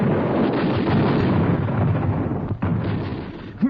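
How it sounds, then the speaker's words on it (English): Machine gun sound effect from an old-time radio drama: continuous dense rattling bursts, loud and close, running nearly the whole time with a brief break near the end. "showing the men in the field just how this machine gun operates in action"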